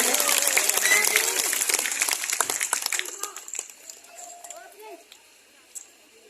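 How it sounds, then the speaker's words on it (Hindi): A crowd claps loudly and densely, the applause gradually thinning into scattered claps and fading out, with a voice faintly audible at the end. "ताली बजाएंगे सभी लोग जोरदारी से"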